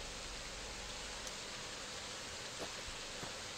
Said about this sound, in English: I do love rain effects though. Weather mods are quite awesome.